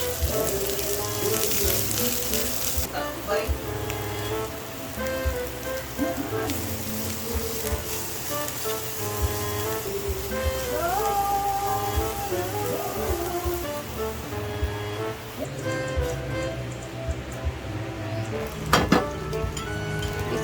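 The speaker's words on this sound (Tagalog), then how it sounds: "Mga lumpia wrapper. O, diba? Fried lang natin yan siya, guys." Lumpia wrappers fry in reused cooking oil with a steady, dense sizzle and crackle that holds throughout, close and loud, while music plays underneath and a voice speaks briefly.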